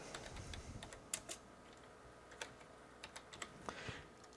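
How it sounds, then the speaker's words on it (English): Light computer keyboard typing in a quiet room, with short bursts of clicks and gaps between them, including a few louder single key presses. "I'll type a paragraph for that."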